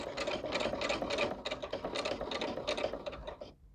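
A sewing machine running steadily as it stitches fabric Christmas placemats, giving a close, fast mechanical patter in short bursts that stops near the end.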